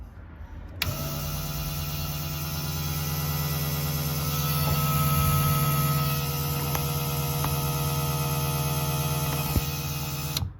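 An electric fuel pump in an LS-swapped C4 Corvette switches on and runs as a steady, even mechanical hum and whine, fairly close and constant for about ten seconds before cutting off.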